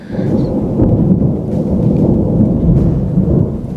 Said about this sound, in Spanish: y miren el trueno